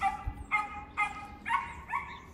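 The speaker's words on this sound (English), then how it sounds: "Neighbor's dog is kind of annoying" A neighbor's dog barks five times in a steady rhythm about half a second apart, sounding somewhat distant and fairly clear, with no talk.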